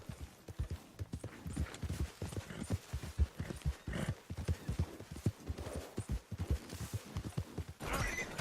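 Rapid clip-clop of a horse's hooves galloping through mud in the Red Dead Redemption 2 video game, a steady near drumming of strikes that runs throughout.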